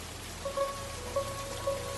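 Rain falling through the night, a soft even patter with faint tonal blips repeating over a low hum, no voices.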